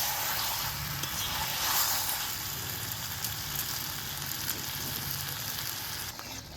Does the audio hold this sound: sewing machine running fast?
no